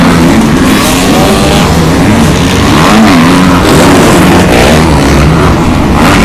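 Motocross bikes, two-strokes among them, race close by at a track in Brandon, their engines screaming and revving loudly and continuously as they pass, with no let-up.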